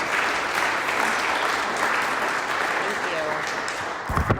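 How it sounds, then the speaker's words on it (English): Audience giving a round of applause at an evening talk on local air quality, a dense, loud, sustained wash of clapping that runs throughout and thins out near the end. "Let's give her a round of applause,"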